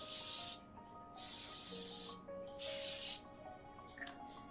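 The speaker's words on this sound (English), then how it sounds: "I've got this edible blue color spray that I think would look really neat if we" Edible blue color spray hisses from a can onto cupcakes in three loud bursts of about a second each, with short pauses between them. A faint clink comes at the end and no one talks.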